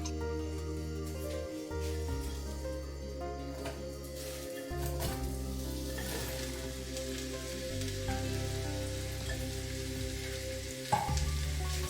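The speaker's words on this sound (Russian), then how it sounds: "Порезанный лук нужно будет обжарить до золотистости." Chopped onion frying in a pan of unscented sunflower oil, a steady crackling sizzle with a low constant hum underneath, continuous and even at moderate loudness with no voices.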